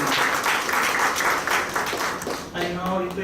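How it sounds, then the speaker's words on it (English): Audience applause at an indoor tax workshop, dense steady clapping from a seated crowd filling the room, fading toward the end as a voice begins speaking. "I now request everybody to give him a round applause"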